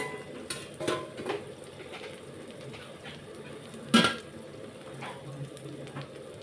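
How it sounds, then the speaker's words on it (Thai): Thai omelette eggs (khai jiao) frying in a pan, heard as a low sizzle with scattered clinks and scrapes of utensil on pan, including one sharper knock midway. "ทอดไข่เจียวสองใบ"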